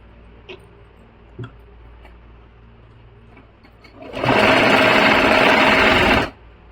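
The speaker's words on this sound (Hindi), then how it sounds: "और इसके ऊपर सिलाई लगा लेंगे" A sewing machine stitching piping onto a kurti runs in one loud, steady close burst of about two seconds after a few quiet ticks and handling sounds.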